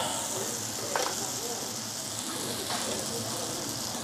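Iberico pork fries in oil with a steady, dense sizzle and a couple of brief louder crackles, while people talk faintly in the background.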